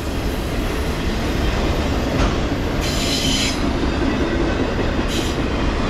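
A long Norfolk Southern autorack freight train rolls slowly past at close range, a steady loud rumble of wheels and cars with brief high squeals from the rails, no talking.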